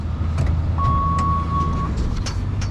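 A custom bootlegger-style car rumbles along on a test drive after a new removable steering wheel is fitted, a steady low engine and road drone heard from inside, with a brief tone and light knocks.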